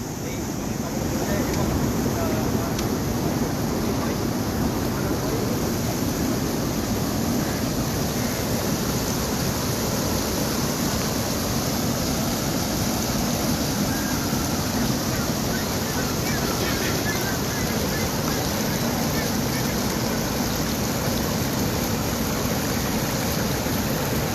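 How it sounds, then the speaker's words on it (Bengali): Fast-flowing river water at Nishindra near Farakka, a loud, continuous rushing roar mixed with wind buffeting the microphone, steady throughout with no voice. "আপনারা দেখতে পাচ্ছেন জলের যে গতিবেগ, ব্যাপক গতিবেগ।"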